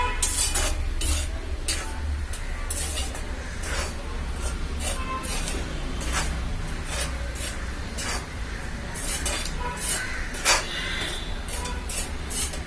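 Red rice flour being stirred and roasted in a pan: continuous close scraping and rubbing of a spatula across the pan surface in repeated strokes, steady and moderately loud with no voices.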